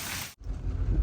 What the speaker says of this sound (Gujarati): સરસ મજા વરસાદ